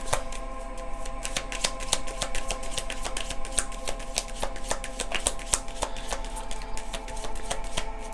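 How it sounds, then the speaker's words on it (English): A deck of tarot cards is shuffled by hand in a steady run of quick crisp riffles and slaps lasting several seconds, close and clear, with no voice over it. "when I shuffle and no cards come out, that tells me everything I need to know"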